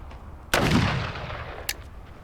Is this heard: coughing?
no